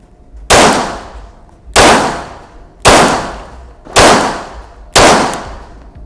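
Glock 17 pistol fired at a target on a range, five loud sharp shots spaced about a second apart, each ringing out with a decaying echo.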